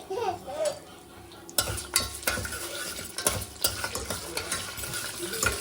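Crushed garlic, pepper and cumin fry in hot oil in a home kitchen, producing a dense, continuous sizzle with a sudden louder flare partway through and intermittent utensil clinks from stirring, close by and without speech.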